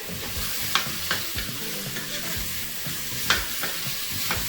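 Food sizzles steadily in a hot frying pan while a utensil stirs it, with scraping knocks at irregular intervals over the continuous frying hiss.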